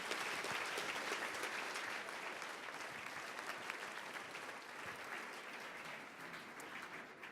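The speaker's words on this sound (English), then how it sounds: "Round of applause for Apiary." An audience applauds young entrepreneurs at a junior entrepreneur event, producing dense, sustained clapping that fills the room and slowly thins over several seconds.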